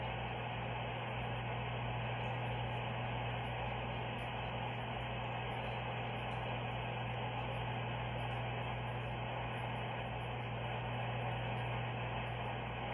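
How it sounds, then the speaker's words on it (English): An active dial-up modem connection heard over a phone line gives a constant, muffled band of static hiss with a low steady hum underneath, unchanging throughout and with no voices. "So this is what it sounds like when you have the dial-up actively talking."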